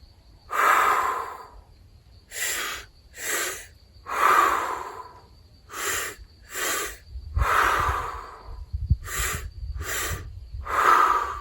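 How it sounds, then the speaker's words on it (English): A person performs a three-part breathing exercise through the mouth, taking two-part inhales and one-part exhales as a repeating sequence of audible breath bursts, near and alone, under a faint steady tone. "it's 3 parts in through the mouth, 2 parts on the inhale and 1 part on the exhale"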